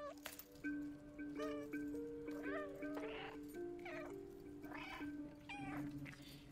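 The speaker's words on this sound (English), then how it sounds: "I don't need to be meowing. I'll stop." A cat in the video game Stray meows repeatedly over steady game music, a string of clear, drawn-out mews and caterwauls spread across several seconds.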